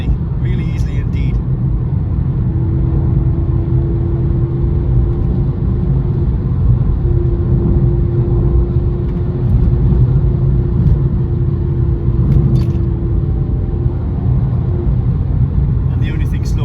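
Porsche 997 four-wheel drive cruising on wet roads, giving a constant low engine rumble and road noise from inside the cabin with a faint steady tone, while a voice talks faintly over it.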